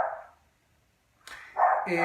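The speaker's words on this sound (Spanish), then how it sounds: "Ese es mi perro que está intentando participar en una discusión con otro de afuera." A dog barks at another dog outside, with a short bark at the start, then a pause and a louder cluster of barking toward the end, moderately close.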